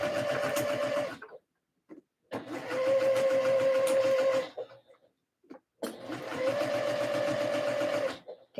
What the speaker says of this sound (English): Now back to the sewing machine.